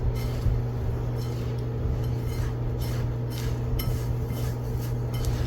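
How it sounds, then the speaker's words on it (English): Cornmeal mix and panko breadcrumbs are stirred together in a bowl, with steady scraping and light clinks of a utensil against the dish over a constant low hum. "I guess I'll go ahead and mix these together. This is my cornmeal mix and my panko breadcrumbs."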